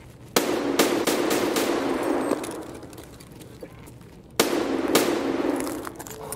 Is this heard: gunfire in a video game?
yes